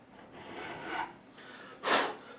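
A hand file rasps along the fret edges of a Gibson SG Special Faded Yellow guitar during a re-fret, removing burrs. Two close, scratchy strokes, the second short and louder.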